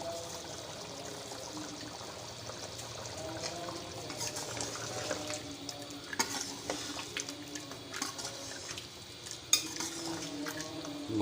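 Mutton karahi sizzles in ghee with yogurt while being stirred over a normal flame, a steady close frying hiss broken by scraping and stirring clatter.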